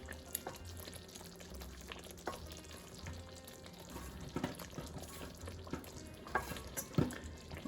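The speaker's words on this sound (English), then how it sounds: "the gravy has been simmering for last 3 to 4 minutes on a medium flame, bubbling away" Paneer masala gravy simmering on a medium flame in a pan, giving a soft continuous bubbling sizzle with occasional louder pops and stirring clicks, heard close and alone.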